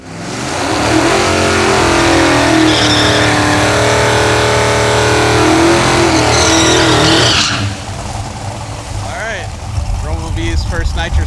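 A Hemi-powered drag car with nitrous runs loud and close, a harsh steady engine roar that holds for several seconds before dropping abruptly into a lower, rougher idle with fluctuating revs.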